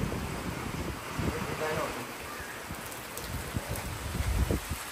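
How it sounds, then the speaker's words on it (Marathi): Heavy monsoon rain driven by strong wind in a Konkan village, trees thrashing, a dense steady wash of noise with gusty rumble close to the microphone throughout. "आता पाऊस आलाय बघा. जोरात आहे एकदम."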